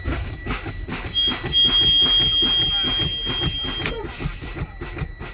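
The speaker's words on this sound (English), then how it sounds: "My low air pressure buzzer and indicator came on." A tractor-trailer's low air pressure warning buzzer sounds steadily as the air drains during a pre-trip brake check, a constant tone running under rattling, pulsing engine noise through the whole stretch.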